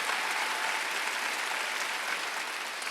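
Church congregation applauding during a Sunday worship service, a steady, dense wash of many hands clapping at moderate distance, sustained evenly throughout without a break.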